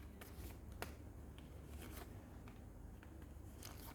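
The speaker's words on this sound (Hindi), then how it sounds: "देख लेते हैं कि आपकी फैमिली लाइफ कैसी रहेगी" Tarot cards being shuffled by hand produce soft, close riffling and papery flicks in uneven bursts over a low background hum, with no talk.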